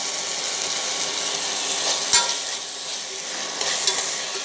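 Tomatoes fry in hot oil with salt while being stirred, giving a steady close sizzle broken by a few light scraping clinks of the utensil against the pan.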